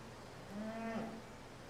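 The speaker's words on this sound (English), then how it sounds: "This is a fine set of cattle." A single cow or steer moos once at a junior fair market beef show, a clear, rising and falling bellow lasting about a second over low barn background noise.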